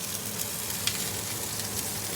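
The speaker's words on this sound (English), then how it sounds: "now as I'm browning the beef bone" A beef bone browns in a pot, giving a steady close crackling sizzle with small pops, continuous and even, with no voices over it.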